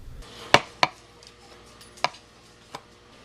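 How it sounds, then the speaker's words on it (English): Original clay pieces torn apart by hand for remelting, giving four sharp, close snapping cracks at irregular intervals with quiet handling noise between them. "So these original clay pieces, I'm sort of tearing up and I'm melting them back down"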